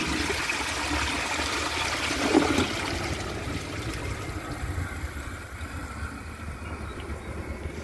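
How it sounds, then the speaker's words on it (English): A 2003 comfort-height Eljer Patriot toilet flushes in a steady rushing surge of water that gradually eases into a softer trickling refill, loud and close, with no voices. "It has a good flush."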